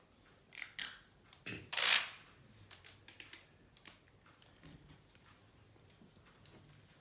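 Clear adhesive tape being pulled and torn in short crackly bursts while a paper plane is assembled, a few sharper rips standing out among quieter rustles and handling noises, close up with no talk.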